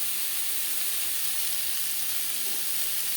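Papaya frying with turmeric in a pan over medium flame, giving a steady, close sizzle and hiss that holds evenly throughout with no talking.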